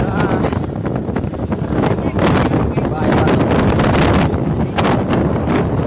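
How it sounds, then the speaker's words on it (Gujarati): Strong, gusty wind buffets the microphone with a continuous loud rumble and rustle, a voice faintly audible beneath it. "પવન આવતો"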